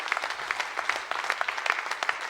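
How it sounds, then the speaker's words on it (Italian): Audience applause for a performer at a cabaret show, a steady wash of many hands clapping at moderate level, heard alone. "Prenditi l'applauso, Antonio Poddighe."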